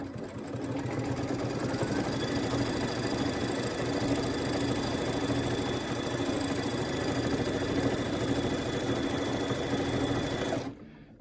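An embroidery machine stitches out a quilting design during a thread-tension test, running as a steady, rapid mechanical hum and needle rattle for about eleven seconds before stopping abruptly.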